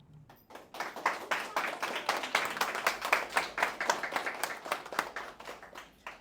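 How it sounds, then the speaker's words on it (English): An audience at a Green Growth Kupu Corps launch event in Saipan applauds, with a few seconds of dense, moderately distant clapping that swells and then gradually thins out. "One more time, a round of applause for Auntie Francis."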